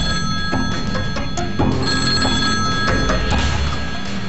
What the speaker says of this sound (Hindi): इंस्पेक्टर का फोन अचानक बज उठता है